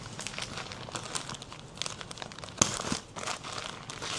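Packaging for Balaramapuram handloom mundu crinkles and tears as it is unboxed, a steady near rustle of plastic or paper with a sharper rip midway, no talking.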